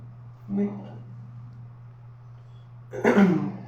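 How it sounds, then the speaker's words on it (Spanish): Two short coughs, a small one early and a stronger, harsher one near the end, over a steady low hum. "disculpen la tos"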